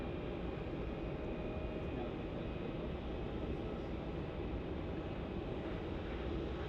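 An airliner rolling out after landing on runway 16 at Melbourne Airport: a steady, dense roar of engine and reverse-thrust noise, loud and unbroken throughout, with no voices.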